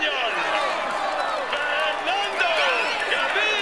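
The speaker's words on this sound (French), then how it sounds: "Applaudissez-le." A large crowd at a Tour de France stage finish claps and cheers steadily in a dense, continuous wash of applause, with no break from start to finish.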